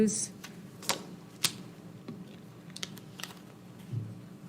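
A computer keyboard is typed on at a school board meeting, scattered irregular clicks and taps at moderate distance with a murmur of room sound beneath.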